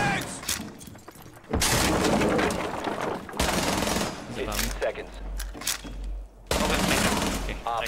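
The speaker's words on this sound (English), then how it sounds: "that shotgun shot" A loud shotgun blast booms in a Rainbow Six Siege ranked match, part of a dense stretch of sharp gunfire bursts that cut in abruptly and repeat over several seconds, with other game noise between them.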